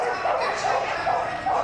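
Border Collie barking repeatedly during a team agility run at Crufts, the yips blending with continuous arena crowd noise and commentary.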